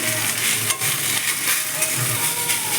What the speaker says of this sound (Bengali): এটা কিছুক্ষণ ফ্রাই করবো